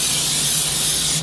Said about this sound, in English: So here's the pan olive oil, and we'll just spray it in here.